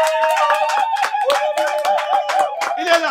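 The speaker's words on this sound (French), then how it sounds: "On applaudit maintenant." Steady, rhythmic hand clapping beats along close by while voices sing or chant a sustained tune over it, at a birthday celebration in Dubai.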